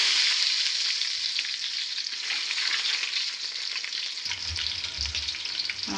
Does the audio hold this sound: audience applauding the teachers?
no